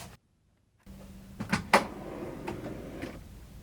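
A drawer opens and shuts inside an Airstream RV, giving a couple of close wooden knocks and a sliding rattle after a brief silence, then a quieter rustle as its contents shift.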